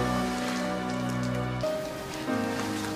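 Heavy rain falls in a TV drama scene, a dense steady hiss under a held musical tone that drops out partway through.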